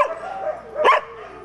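Sled dogs kept on chains bark in a single loud, close burst after a stretch of lower whining and yipping, with no talk over them.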